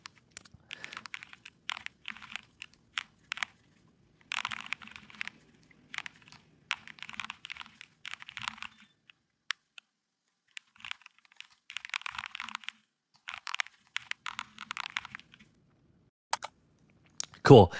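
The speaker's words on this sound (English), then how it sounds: "I'm going to type this out" Typing on a computer keyboard: quiet, close bursts of rapid clicking keystrokes separated by short pauses, with a soft voice faintly underneath.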